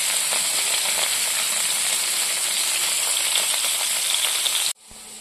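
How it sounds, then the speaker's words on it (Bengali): Bitter gourd (karela) frying in a pan gives a loud, continuous, close sizzle that cuts off abruptly just before the end. "এবারে করলা ভাজাটা বসিয়ে দিয়েছি ভাজার জন্য"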